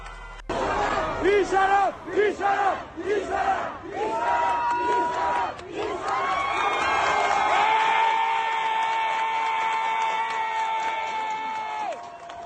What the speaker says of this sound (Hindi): गुस्साई भीड़ सब कुछ जलाकर खाक कर रही है